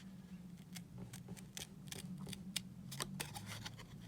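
Scissors snip through card stock in a crafting session, a series of quiet, crisp clicking cuts in an uneven rhythm over a low background hum, with no talking.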